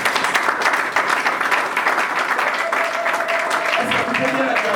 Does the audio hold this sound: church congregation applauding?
yes